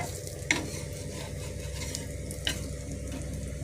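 Seer fish fries in a pan with a steady, close sizzle and a couple of sharper spatters or stirs standing out.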